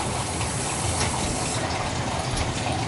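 A Culligan water softener draws brine during manual regeneration, making a steady, loud rush of water and suction that holds evenly throughout with no talking.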